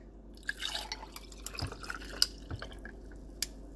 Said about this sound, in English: We're going to pour the coffee in.